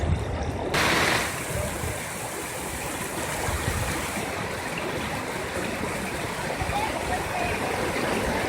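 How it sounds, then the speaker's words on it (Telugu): A stream swollen and overflowing after heavy rains in Guntur district roars steadily as a dense, broadband rush of water, loud and continuous throughout with no pauses. "గుంటూరు జిల్లాలో వర్షాలకు వాగులు పొంగి పొర్లుతున్నాయి."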